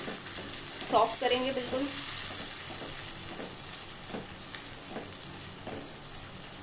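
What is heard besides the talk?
onions, tomato and raw mango frying in a pan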